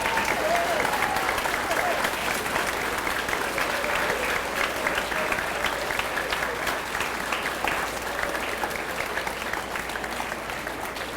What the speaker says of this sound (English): let us stand and give a rousing applause to our heroes who are here